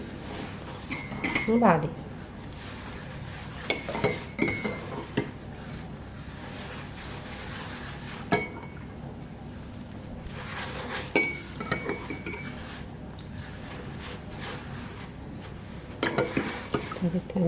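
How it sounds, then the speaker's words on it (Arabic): Msemen dough being gathered and mixed with water in a bowl, heard as scattered clinks and scrapes of utensil against the bowl with soft wet handling between them, under intermittent speech. "ابتدي الم العجين بالميه كده اهو"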